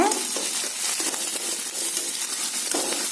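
Steady close sizzling of cashews and raisins in hot ghee, a bright frying hiss broken by a few light scrapes of a stirring spoon, with no voices.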